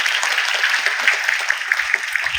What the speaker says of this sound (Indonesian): tepuk tangannya sekali lagi dong